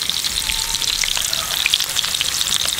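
Onion and peppers sizzling and frying in hot oil in a pan, a steady loud crackle with light stirring, up close and with no voices.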